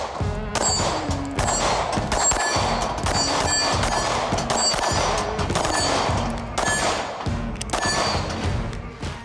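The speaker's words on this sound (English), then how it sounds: "You can come out to the range and shoot plates like this with your carry gun." A Smith & Wesson M&P M2.0 Compact pistol fires at steel plates on a shooting range, a rapid string of sharp shots each followed by a ringing metallic clang from the hit plate, close and loud without speech.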